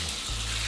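Warm tap water splashes onto a phone's screen protector film, a brief, steady hissing spray with a low running undertone, close and fairly loud.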